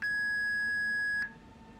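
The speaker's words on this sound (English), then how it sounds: "So you basically just use that beep sound. It's a ZEV3 button on the radio." A ZEV3 radio button in the SimRail train simulator gives a single steady electronic beep, a clean sustained tone lasting just over a second before cutting off, heard alone against faint background hum.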